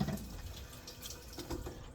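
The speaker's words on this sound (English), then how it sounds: "let me turn the water off." Tap water runs steadily into a kitchen sink while cranberry sauce is being prepared, a faint, even splashing hiss that continues on its own with no talking.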